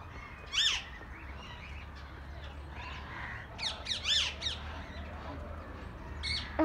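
Several myna birds give short, harsh squawking calls in a few separate bursts against a steady outdoor background hum, with the loudest cluster in the middle and another call at the end.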